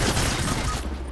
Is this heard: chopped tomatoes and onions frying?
no